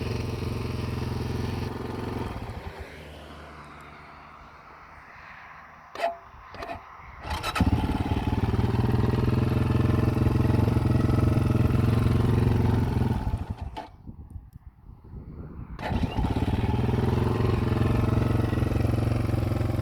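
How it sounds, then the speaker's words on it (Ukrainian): A 2019 Kovi Lite motorcycle with a 172FMM engine, recently fitted with new piston rings and still being run in, idles steadily. It then revs up loudly, dips briefly and revs again, with no talking. "Зараз мотор працює ідеально"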